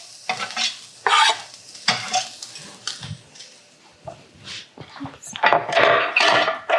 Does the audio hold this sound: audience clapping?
no